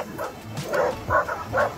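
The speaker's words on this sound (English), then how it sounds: "Who knew dogs love swimming so much?" A dog barks and yips in a few short bursts, close and moderately loud, with faint background noise between the calls.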